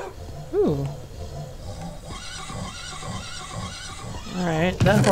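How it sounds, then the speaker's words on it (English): Game horse from Minecraft neighs loudly in a sharp descending whinny early on, then several softer whinnies follow, with a final burst near the end over background game ambience. "Alright, that horse is having a bad day."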